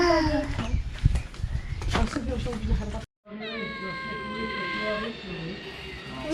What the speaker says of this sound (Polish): Stoński kot.